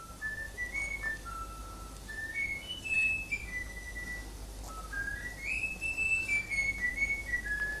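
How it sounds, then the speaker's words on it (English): A bird whistles a learned human tune, clear rising and falling notes in two phrases with a brief pause between, sung alone over faint background hiss. "And now this is the bird singing it"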